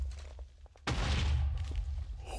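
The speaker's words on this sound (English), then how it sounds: "Don't you fail me, TNT cannon." A TNT cannon fires in a video game: a sudden heavy boom breaks a quiet stretch of faint taps, then a dense rumbling blast trails off for over a second.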